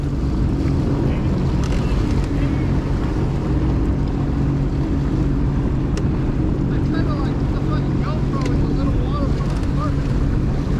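A jet ski runs across the water with a steady engine drone mixed with wind buffeting and splashing, loud and close throughout, while riders speak now and then.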